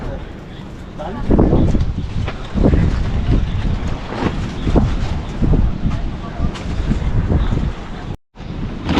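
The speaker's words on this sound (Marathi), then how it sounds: "समुद्राचा वारा येतोय समोरून" Sea wind blows steadily against the microphone at the seashore, a loud, continuous rushing broken by strong gusts, with a brief dropout near the end.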